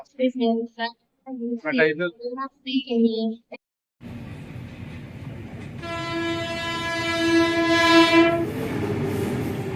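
After a few seconds of speech, a train rumbles past nearby at Kazipet, clattering along the rails, its horn sounding loudly in a long sustained blast.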